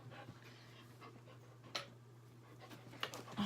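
A dog panting close by in a steady rhythm of quick breaths, with a low constant hum underneath and a few brief louder rustles and squeaks.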